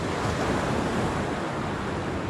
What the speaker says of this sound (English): the waves are, hopefully they're not too bad when we get out here